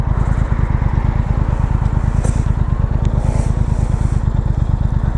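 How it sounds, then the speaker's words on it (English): A Triumph Thruxton R motorcycle engine idles steadily up close with a loud, even throb, its revs blipped briefly by throttle, and no talk over it. "Let's give it a bit of a blip. Oh, it sounds great."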